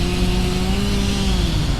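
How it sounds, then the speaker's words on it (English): A chainsaw sawing a tree runs steadily in the background with a continuous, droning engine whine, fairly loud and unbroken throughout. "I don't know if you can hear me for the chainsaw"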